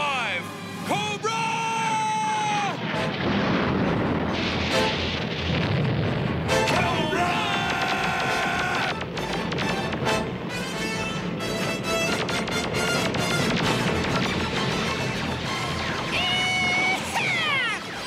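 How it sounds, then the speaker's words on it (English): Air raid explosions and crashes in a G.I. Joe animated cartoon, with Cobra Night Raven jets attacking in Central Asia: a dense, continuous rumble of blasts and impacts under shouting and yelling voices. "We've got an air raid! Man your battle stations!"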